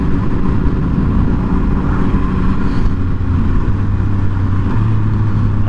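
Motorcycle engine pulling in first gear while riding out on a road in Northern California, a loud continuous rumble with rising low-pitched tone and wind noise, no speech.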